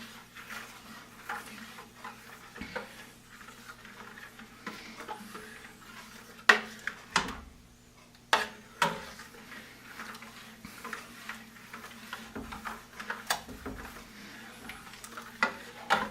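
Two dozen scrambled eggs being stirred in a buttered pan, a quiet scraping with scattered soft clicks and taps of the utensil against the pan, faint and steady throughout.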